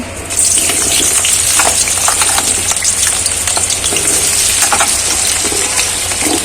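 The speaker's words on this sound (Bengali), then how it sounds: "আমি আলুটা আগে ফ্রাই করে নিচ্ছি" Potatoes fry in oil in a pan, a loud close continuous hiss and crackle that starts abruptly and holds steady, with faint clinks of stirring and no talking.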